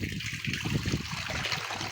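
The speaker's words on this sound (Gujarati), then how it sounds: "પાણી આમાં ઉમેરી રહ્યા છીએ અત્યારે હાલમાં" Water trickles and pours steadily into a container of homemade lemon sherbet, a continuous close liquid splashing with no talk.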